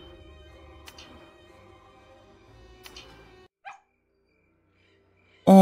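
A small dog barks in the Redemption Cemetery 4 hidden-object game, with a couple of sharp yips early on over a low ambient game soundscape, then quiet with a brief whimper-like cry and an abrupt louder sound at the end.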